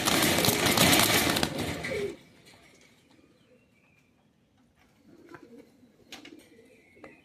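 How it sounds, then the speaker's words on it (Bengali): A female Salooti pigeon coos softly in short, low bursts after a loud rustling, handling-like noise fades, the calls sounding close but quiet against a still background. "একটা মাদি কবুতর।"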